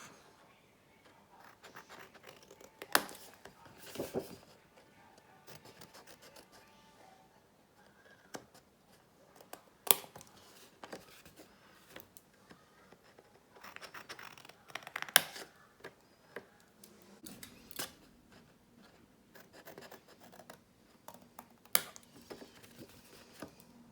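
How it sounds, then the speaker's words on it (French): Scissors cut bevels into a strip of pizza-box cardboard, giving scattered close crunching snips and rustles with quiet pauses between cuts, fairly faint overall. "on va venir sur la bande de 1 cm découper en biseau. Donc, on découpe là et là"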